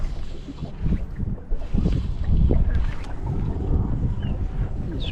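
Wind gusts across a fishing shore in blustery, uneven rushes, with low rumbling buffets against the microphone and some faint water movement underneath.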